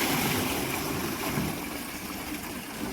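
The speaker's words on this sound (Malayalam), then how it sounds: "അപ്പോൾ ഗൈസ് നമുക്ക് കുറച്ചും കൂടെ വെള്ളം ഒഴിക്കാം." Water pours steadily into a fish tank holding newly bought pet fish, making a loud, continuous rushing splash that stays even throughout, with no voices.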